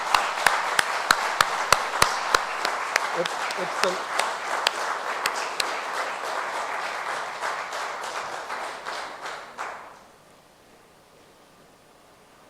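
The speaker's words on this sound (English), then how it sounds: "a huge round of applause for what you've done for the country." Audience applause at an embassy brand ambassador announcement for American pistachio growers, opening with several sharp single claps before a dense, loud round of clapping that fades out after about ten seconds; brief talk is heard.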